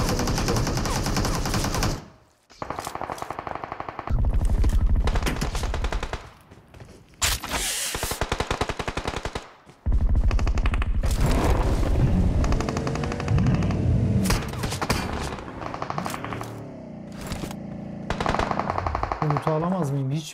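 Rapid machine-gun bursts and gunshots in a video game, loud and close, broken by short pauses, with thuds and other game effects between volleys.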